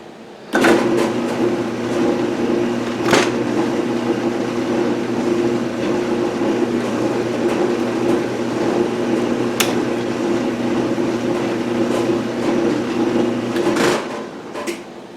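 A small machine running a light spring pass over a thread, cut dry without oil, hums steadily for about thirteen seconds with a few sharp clicks along the way, then stops, with no talking.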